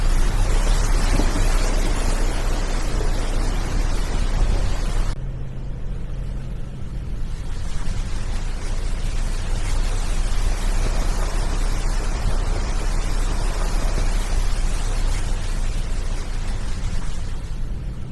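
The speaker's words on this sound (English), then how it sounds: "One more muddy water crossing." An off-road vehicle drives through a muddy water crossing on a Crown Land logging road, a loud, continuous engine roar with heavy splashing and rushing water that drops in intensity partway through, then carries on steadily.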